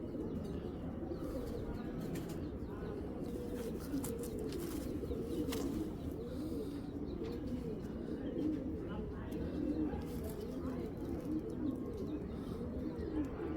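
Giribaz pigeons, king-size birds of a fancy racing breed, coo in soft rolling repeated calls nearby, a steady chorus with occasional chirps and wing flutters beneath someone talking.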